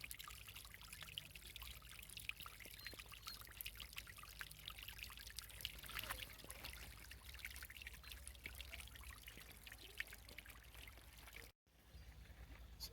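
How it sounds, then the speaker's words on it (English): Waterfall beside a hiking trail near small shops and ponds, a steady broadband rush of falling water running unbroken, close and even, with a brief dropout near the end. "A waterfall over here."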